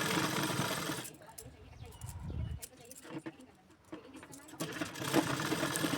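A sewing machine adds a second reinforcing line of stitches along the sleeve seam of a size-40 katori blouse, whirring loudly at the start and end, with someone talking over the quieter middle.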